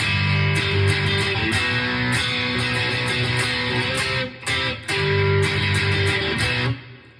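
Bridge chords of a song strummed on guitar in a steady, dense rhythm, loud and close, with two brief dips in the strumming before the chords ring out and fade at the end.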